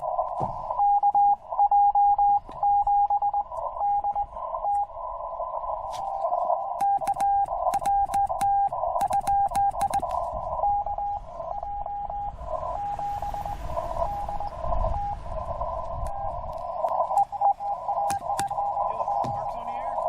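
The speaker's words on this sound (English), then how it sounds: "Running some Morse Code." A steady tone keyed on and off in rapid Morse code rhythm on a portable ham radio station at Petrified Forest National Park, over radio hiss and static, continuous and fairly loud throughout.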